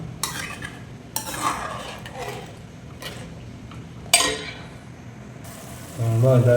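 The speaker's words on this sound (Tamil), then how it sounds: "ஜிஞ்சர் கார்லிக் பேஸ்ட் போட்டுக்கிறேன்" Ginger garlic paste being stirred and fried in a pan for a pepper egg gravy: a spoon scrapes and clinks against the pan in several short strokes over a soft, steady sizzle, close and moderately quiet.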